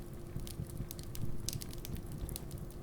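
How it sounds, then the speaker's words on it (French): A fireplace fire crackles in a cozy living room, its soft pops and snaps spread steadily across a low, continuous rumble at moderate, close range. "Vous êtes accueillis ici par un feu de cheminée qui crépite"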